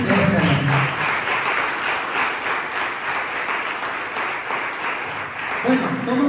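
A church congregation applauds during a sermon, with dense, fairly loud clapping throughout and voices over it at the start and the end.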